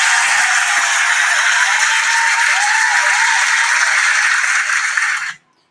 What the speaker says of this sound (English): Let's give Bernie Sanders another round of applause for coming up with this idea.